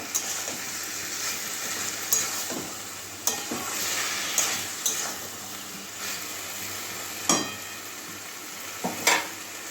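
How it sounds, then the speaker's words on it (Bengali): Fried potato, pointed gourd and carrot are stirred with masala in a pan, a low steady sizzle broken by repeated sharp spatula scrapes and knocks at irregular intervals. "এবারে ভেজে রাখা আলু পটল গাজর দিয়ে দিচ্ছি এটা ভালো করে কষিয়ে নেব মশলার সঙ্গে মিশিয়ে দেবো"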